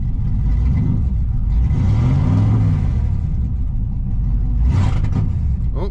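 A car with a freshly rebuilt 700R4 transmission rolls out of a shop, its engine a steady close low rumble that swells briefly mid-way, with a short hiss near the end.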